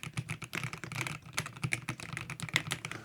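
Rapid, close clatter of typing on a full-size Keychron P6 Ultra 8k keyboard with cherry-profile keycaps, keystrokes tumbling in an uneven fast rhythm with brief pauses.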